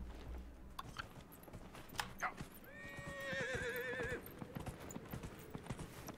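Horse in the video game Dragon Age: Inquisition, with steady clip-clopping hooves and a clear whinny in the middle, fairly quiet under light game ambience.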